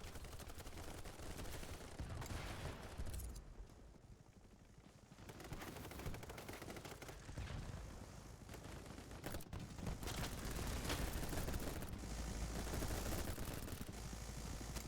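Gunfire in the shooter game BattleBit, with dense rapid automatic bursts and crackling shots almost throughout and one brief lull in the middle, loud and close.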